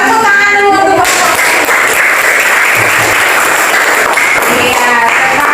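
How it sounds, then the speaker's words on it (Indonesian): Students in a classroom applaud a student group, a loud burst of many hands clapping at once that runs steadily for several seconds, with a brief bit of talk at the start. "tepuk tangan dulu untuk kelompok"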